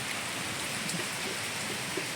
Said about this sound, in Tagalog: Kasi dito inabot ng malakas na ulan.